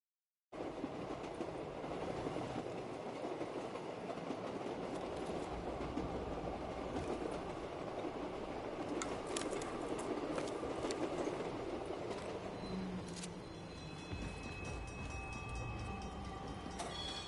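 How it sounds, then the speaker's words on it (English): A train in the Black Ops 3 Zombies video game rumbles and clatters steadily along the tracks, with occasional metallic clanks and a faint squeal, continuous and close throughout. "Maybe I should just keep riding the train."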